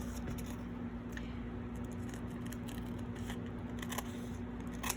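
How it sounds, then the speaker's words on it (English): Scissors snip along the edge of a book page during a craft project, giving soft, close crisp cuts over a steady low hum, with no talking. "So I just angle my scissors out just a little bit"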